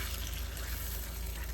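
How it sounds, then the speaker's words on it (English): Taco ground meat stirred as it simmers in a pan in an RV kitchen, a continuous close sizzle with soft scraping movement throughout. "Give it a stir."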